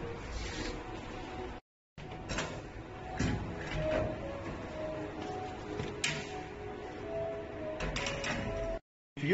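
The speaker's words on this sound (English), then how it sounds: "And then the locker will open. The receipt will come out." A cooling locker vending machine with card reader unlatching a locker door and then printing a receipt, giving mechanical whirs, clunks and a rattling feed at close range, broken by brief silent gaps.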